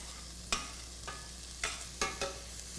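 Onions cooking in a pan, a quiet steady sizzle broken by a handful of sharp scraping stirs spaced through the few seconds, with no voices.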